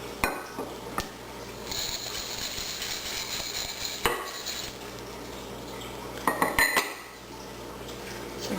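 Cookie dough with flaxseed and coconut being mixed by hand in a bowl, a utensil clinking and scraping against the dish in scattered knocks over a steady low background hum.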